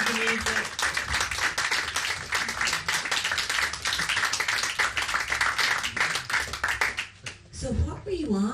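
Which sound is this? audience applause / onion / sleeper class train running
audience applause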